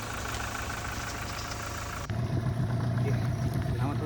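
A boat motor hums steadily while anglers prepare to go fishing in New Zealand. After an abrupt shift it runs on with a stronger low rumble, and people talk nearby.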